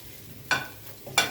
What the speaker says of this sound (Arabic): وهضيفهم على الرز واقلبهم كويس معاها.